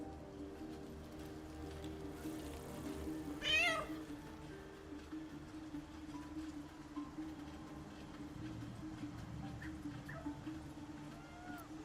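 Single short meow from a cat in Baldur's Gate 3, rising and falling once, heard over a low droning game ambience with faint background sounds.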